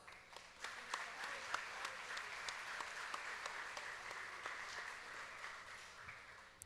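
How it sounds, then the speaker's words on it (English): Faint, distant applause from an audience at the Choctaw Nation princess pageant rolls on evenly for several seconds, a soft wash of many hands with a few sharper claps standing out. "Let's give them a round of applause"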